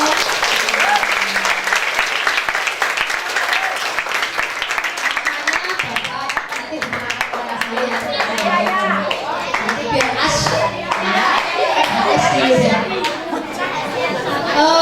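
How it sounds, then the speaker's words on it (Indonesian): Audience applause at a school scout event (Pramuka, SMPN 31 Surabaya) for a librarian guest speaker; dense, continuous clapping mixed with children's chatter and voices throughout, fairly loud and close. "Ya, tepuk tangan dong."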